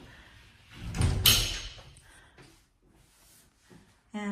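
Indoors in an older fixer-upper house, a door swings open with a sudden rushing scrape and clatter, followed by a quiet pause and a short knock or bump at the end.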